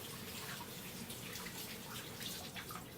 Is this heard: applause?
no